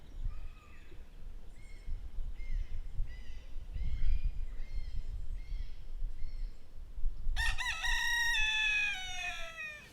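Cockerels crow outdoors. One loud, drawn-out crow comes close by near the end, over a rumbling wind-like background, with fainter repeated clucks and calls before it.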